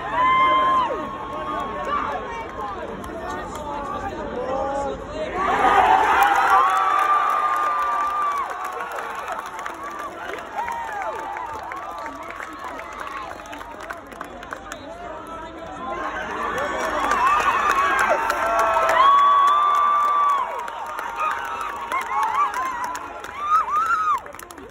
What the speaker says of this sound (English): This is everybody cheering when Max Verstappen broke down.